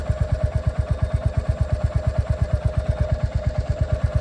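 Royal Enfield Hunter 350 single-cylinder motorcycle idling up close, a loud, even thumping pulse repeating rapidly and steadily the whole time.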